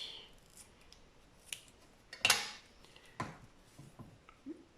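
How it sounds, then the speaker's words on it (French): Sharp scissor snips cut through a ribbon while making a craft embellishment: a handful of separate crisp cuts spaced out over several seconds, close and fairly quiet, with no talking. "Je vais le couper."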